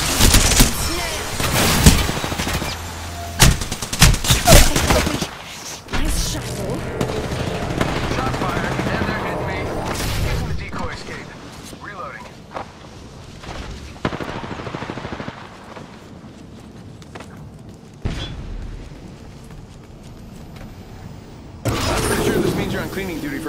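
Automatic gunfire and weapon fire in the video game Apex Legends during a ranked match, with loud bursts of shots in the opening seconds, then quieter sporadic firing and game effects, while a voice talks throughout.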